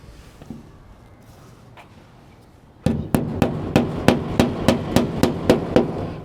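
Rapid sharp metallic strikes while clamping electrical wiring for a solar charge controller, about a dozen evenly spaced hammer-like hits, close and loud, after a few seconds of quieter handling noise.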